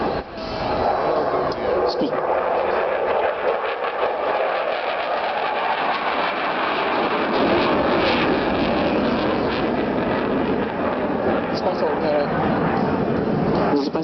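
A Su-27 fighter jet flies at the Radom air show, producing a continuous broad, loud roar with some distance to it, while people talk over it throughout.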